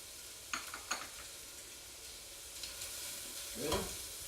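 Crumbled sausage and red pepper flakes sizzle faintly in a pan on the stove while a spoon scrapes and stirs in a few short strokes, quiet and close, without talking.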